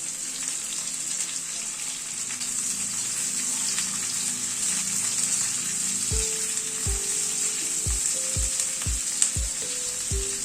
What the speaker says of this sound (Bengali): গ্যাসের ফ্লেমটাকে একটু বাড়িয়ে দিয়ে পেঁয়াজটাকে ভেজে নেব।